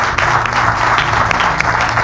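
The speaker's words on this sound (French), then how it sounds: "on peut applaudir bien fort" An audience applauds on a talk show, many hands clapping in a dense, steady burst, fairly loud, with a low hum or music bed underneath.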